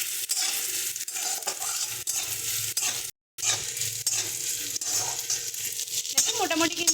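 Onions frying in a pan, giving a steady, close broadband sizzle with stirring scrapes throughout, briefly cut to silence midway, then resuming. No one talks.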